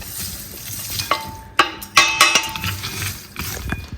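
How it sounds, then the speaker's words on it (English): Flax seeds toasting in a hot pan while being stirred for homemade vegan protein powder, giving a soft dry sizzle broken by a few sharp utensil clinks against the pan, close and fairly quiet. "the heat in the pan can toast the flax seed also a little bit"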